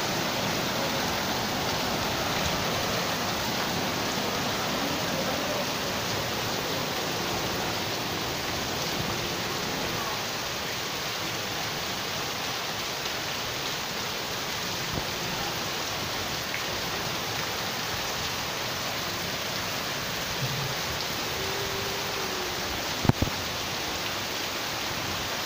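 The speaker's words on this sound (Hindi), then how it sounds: "लाहौर में बारिश बहुत तेज़ हो रही है" Heavy rain pours down in Lahore in a steady, dense roar, unbroken and even throughout, with no voices.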